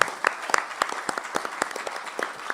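An audience applauds a musician at a gathering, many hands clapping in a lively, moderately distant burst with distinct sharp claps standing out, steady throughout and with no talk over it.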